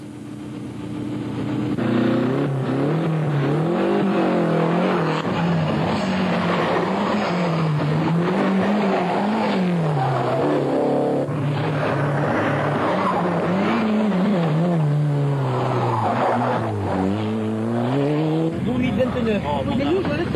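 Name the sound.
rally cars racing at night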